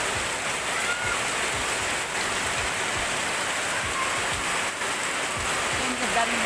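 Steady rain pours down outdoors in an even, unbroken hiss, with faint voices in the background.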